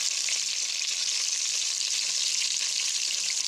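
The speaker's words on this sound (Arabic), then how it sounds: "درت المورسو تاع الدجاج، درت شوية زيت شوية سمن" Pieces of chicken for a modern mderbel sizzle in a mix of oil and ghee, giving a steady, close and fairly loud frying hiss that runs unbroken with no talking.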